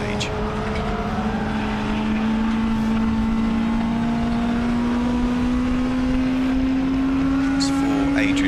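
Touring cars racing at Silverstone, with a loud engine note rising steadily as a car approaches and passes. A race commentator talks over the continuous roar.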